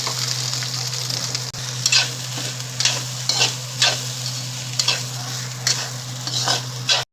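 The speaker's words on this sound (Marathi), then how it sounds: "त्याच कढईत आपण आता थोडा थोडासा राईस टाकून चांगला परतून घेऊ" Cooked rice for homemade veg fried rice is tossed in an oiled kadai, a constant sizzle broken by regular scraping spatula strokes roughly every half second to a second, up close with no voices.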